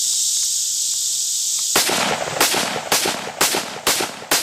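An early SIG firearm, fitted with a removable gas block and fired outdoors near a cabin in winter, lets off a string of about six sharp, loud shots at an uneven pace after a steady hiss, with no talking.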